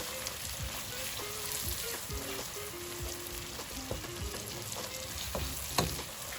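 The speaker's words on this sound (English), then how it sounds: "now while the onions are cooking" Onions sizzle in a pan of hot oil for a vegetable biryani, a steady soft crackle with occasional brief stirring taps and scrapes, fairly quiet and with no talking.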